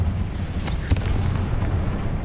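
A Confringo blasting spell in the Hogwarts Legacy video game, a single muffled boom near the middle of a short burst of rumbling game noise.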